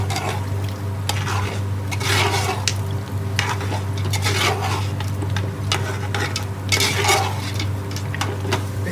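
Mutton bhuna for a traditional Bengali dish sizzles steadily in oil in a pan while being stirred, with repeated scraping strokes of the spoon against the pan over a constant low frying hiss.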